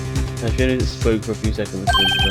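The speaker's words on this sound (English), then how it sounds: "One of those new fangled ringtones." A phone ringtone sounds in the Phoenix Wright: Ace Attorney game, a bright repeating electronic tone entering near the end under ongoing speech and game music.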